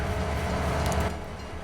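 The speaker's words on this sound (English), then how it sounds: "Here, let's get this train going." A freight train in the game Farming Simulator 22 (Silverrun Forest map) pulls away and runs steadily, giving a continuous low rumble of engine and rolling wagons at a close, even level with no talk.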